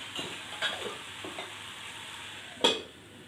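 Amaranth leaf and cowpea curry being stirred in a pan, with a soft sizzle under a few scraping strokes and a sharp clank of the spoon near the end.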